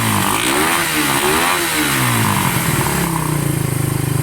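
Motorcycle engine with a faulty carburetor that idles poorly at low revs, running loud and close with uneven revving that rises and falls before settling into a rough pulsing idle.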